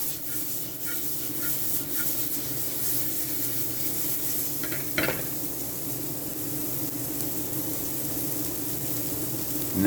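Garlic heating in a pan with butter, a steady, fairly quiet hiss of sizzling throughout, with a brief utensil clink partway through and no talk.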